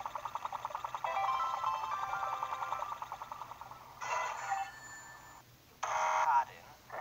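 An alarm goes off in a video game: a rapid, pulsing electronic beep repeats steadily for a few seconds, then returns in two louder bursts, fairly close and clear with no talk over it.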